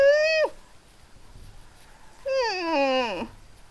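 A cat gives two distinct meows close by, a short one and then a longer, drawn-out falling cry after a pause, with no talking.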